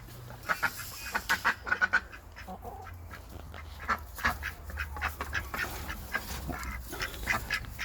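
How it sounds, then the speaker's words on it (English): Farm ducks in a pen beside a chicken coop quack in repeated loud bursts, clustered and irregular, close by with a low background hum and no talking. "The ducks are not happy."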